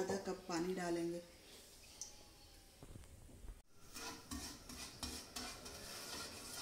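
A spoon stirs a cup of sugar and half a cup of water in a pan while making barfi. The close, scraping stir runs steadily, with light clinks, and a voice is heard briefly at the start.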